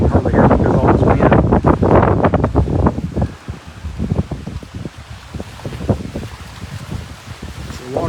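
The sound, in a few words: wind blowing on microphone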